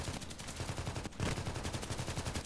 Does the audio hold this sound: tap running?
no